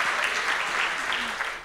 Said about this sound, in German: Ja, das ist ein total verdienter Applaus.